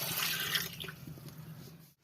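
Water pours and trickles into a pan of jaggery as it heats, giving a steady splashing, running stream that thins out and then stops near the end.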